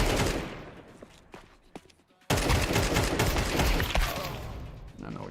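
Bursts of close gunfire in a Counter-Strike match, loud dense volleys filling most of the stretch after a brief quieter gap with scattered shots.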